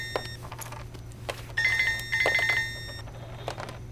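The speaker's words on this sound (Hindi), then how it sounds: "किसका फोन है?" A telephone ringing in a home, electronic trilling bursts in a repeated pattern, loud and near, over a low steady hum, with no speech.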